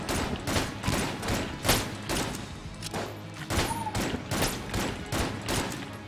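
Rapid, continuous gunfire in the video game Enter the Gungeon, a dense stream of sharp shots repeating almost without pause at close range, with thuds mixed in and no talk over it.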